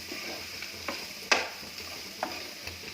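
Potatoes stir and fry in oil in a pan over a low flame, giving a quiet sizzle with a few soft scraping clicks from the stirring.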